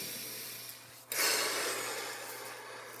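A single deep, breathy exhale bursts out about a second in during a guided breathing practice, loud at first and then trailing off slowly over a faint steady hum.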